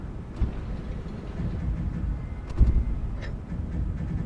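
Train ambience in the video game Downpour: a steady low rumble of a moving rail car with faint clanks and rattles.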